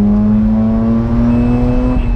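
Mazda RX8 rotary engine held at high revs near its 8,000 RPM limit, a loud steady tone with a sustained high-pitched shift-warning beep running through it, no talking.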